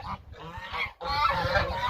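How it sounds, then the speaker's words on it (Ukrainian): Geese honk loudly and repeatedly at close range, several birds calling over one another in harsh bursts. "Бачите, гуси які. Що ви кричите? Ну що ви кричите?"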